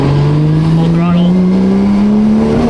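A Toyota Soarer engine pulls at full throttle from inside the car, a steady droning note rising smoothly in pitch as it accelerates, loud and close, with a voice speaking over it.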